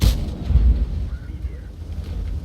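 In a video game, a single deep IS-7 heavy tank cannon boom bursts at the start, followed by a low rumbling tail and a muffled engine drone.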